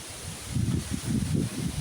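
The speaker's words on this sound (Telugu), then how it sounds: "గాలి వాన" Storm wind rushes through trees, making a steady, close rustle of leaves and branches that swells in gusts. No voices are heard.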